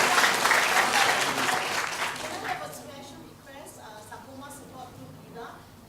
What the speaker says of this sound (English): please join me to give a big warm round of applause for our guest of honor, Dr. Amy Khor, for presenting the awards.